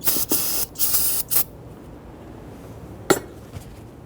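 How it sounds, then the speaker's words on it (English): Solvent sprayed from an aerosol can onto a power steering pump on a 2008-2013 Infiniti G37, several short hissing bursts up close, followed by quieter handling noise and a single sharp clink. "go ahead and take some solvent and kind of give this a quick cleaning."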